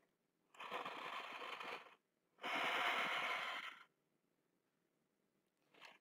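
Two long, deep breaths drawn in and let out during a yoga stretch with a strap, close and clear, separated by silence, followed by the start of a third.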